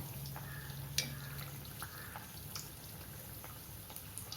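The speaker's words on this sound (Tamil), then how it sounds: "எண்ணெய் காஞ்சதுனால உடனே மேலே எழும்பி வருது பாருங்கள்" Adhirasam dough frying in hot oil, a faint steady bubbling sizzle with small pops and one brief clink, close and quiet with no talking.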